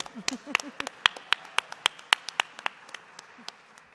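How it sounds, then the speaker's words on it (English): Scattered clapping rises from an audience honoring award recipients at a ceremony, with sharp, distinct individual claps at an uneven pace that thin out and fade toward the end. "While we're applauding, we also want to applaud all of you for being here to support all these honorees"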